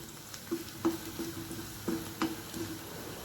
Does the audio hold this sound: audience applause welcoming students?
no